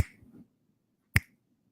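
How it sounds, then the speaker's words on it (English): A single crisp finger snap right in front of a microphone, loud and close, following a brief murmur of room noise, then quiet. "will you snap your fingers in front of that microphone?"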